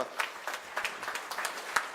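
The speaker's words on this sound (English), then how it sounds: "All the 3 alumni, please give them a big round of applause." Audience applause for three alumni at a college technology conclave, a soft, steady patter of many hands with a few sharper claps, heard from a distance and fairly quiet.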